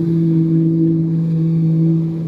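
Speedboat motoring on the Red Sea off a beach, a loud steady engine drone with a low even hum and some wind noise, no voices.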